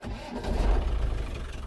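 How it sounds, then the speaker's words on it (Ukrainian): A 1997 Land Rover Defender diesel engine cranks and catches, settling into a steady low rumbling idle that carries on close by with no talking. "Зараз я заведу послухаю, як він працює."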